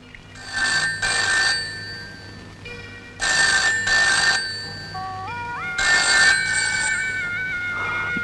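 A telephone rings in repeated double bursts of electronic trilling, loud and close, with a short rising tone sequence between rings and no one speaking.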